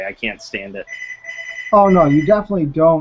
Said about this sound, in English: Whose phone's ringing?